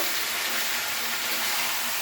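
Spice paste for a Bengali catla fish curry sizzles and crackles steadily in hot oil while being stirred, a dense close hiss running the whole moment with no speech.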